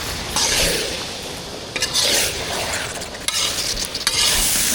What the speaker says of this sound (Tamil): மீல் மேக்கர் சேர்த்தாச்சு நல்லா மசாலா கூட கலந்து விட்டுக்கலாம்